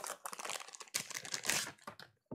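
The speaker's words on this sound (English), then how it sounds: "And you shuffle. And you just deal some cards out." Board game cards are shuffled up close in a dense run of crisp, papery riffles and flicks that pause briefly, then resume with a louder burst.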